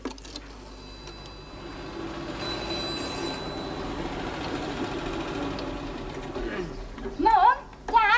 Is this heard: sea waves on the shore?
no